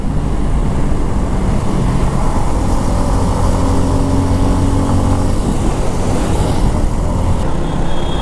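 A 250cc motorcycle overtakes at speed on a road near Purbachal, its engine a loud, steady roar with heavy wind rush running unbroken throughout.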